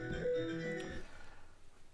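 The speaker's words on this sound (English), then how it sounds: "Flit involves this sporkatronic instrument, which some of you might have seen, sounds like this" A sporkatronic instrument built around a fork rings out with a single soft, pure harmonic tone that sustains briefly and fades away within about a second, heard alone and quietly.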